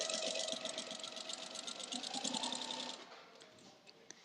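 A sewing machine stitches a soft rag quilt in a steady, fast run of needle strokes close by, then slows and stops near the end, leaving a few faint clicks.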